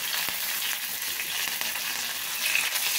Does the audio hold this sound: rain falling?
no